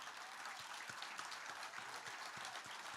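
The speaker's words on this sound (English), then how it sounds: "We need to give a huge round of applause to all of our storytellers" Applause from the audience at a celebration-of-life gathering honoring the storytellers, a steady wash of many hands clapping at moderate-to-faint level, continuous across the full three seconds.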